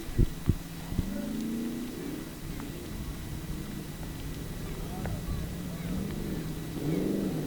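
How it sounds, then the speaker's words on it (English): A turbo-engined Formula Offroad race car revs at a distance, its drone running steadily under a commentator's voice. "This is a turbo engine."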